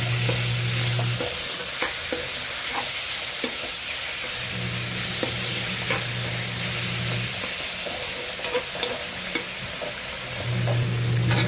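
Ground pork or beef sautéing in oil with garlic, onion and tomato, a steady broadband sizzle with repeated scraping stirs of a utensil against the pan throughout, close and continuous, with a low hum coming and going in the background.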